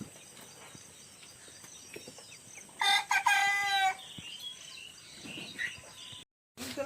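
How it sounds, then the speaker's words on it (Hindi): A cockerel crows loudly once or twice in a wet outdoor village setting, and soft clucks and faint insect chirps follow against a quiet background. "देख सकते हो जो मोर घर में कॉकरेल मुर्गा है जो भाई रखे हावे।"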